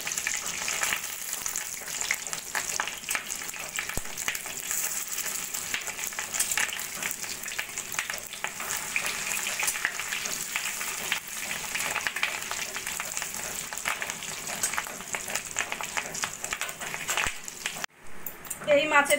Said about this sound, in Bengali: माछेर डिम भाजते गेले एकटू फाटे, सेई जोन्नो आस्ते आस्ते लो फ्लेमे आमी माछेर डिमटा भेजे नेब।